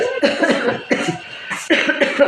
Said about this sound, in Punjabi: ਖਾਂਸੀ ਹਲੇ ਠੀਕ ਨਹੀਂ ਹੈਗੀ